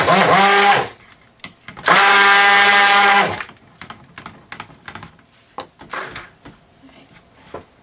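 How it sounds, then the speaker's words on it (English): An electric stick blender mixes red colorant for cold process soap, whirring loudly in two bursts, the second longer, followed by a series of sharp knocks and clatters of utensils against a container. "And now I'm going to mix my red."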